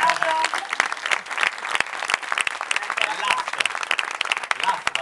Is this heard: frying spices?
no